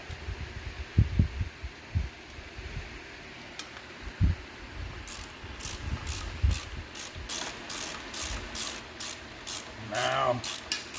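Ratcheting clicks from a hand wrench tightening the last bolt during assembly of a 1970 Dodge Charger 318 V8 engine, a rapid regular series of close, fairly quiet clicks in the second half after a few scattered knocks.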